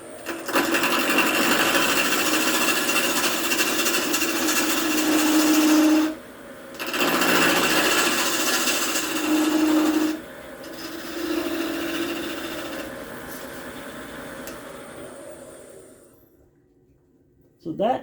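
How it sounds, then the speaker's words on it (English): A wood lathe spins while a carbide roughing cutter bites into the turning wood. A loud, continuous buzzing scrape breaks off in brief pauses between cuts, then dies away as the machine spins down. "lathe's all set up, so all I got to do is turn it on"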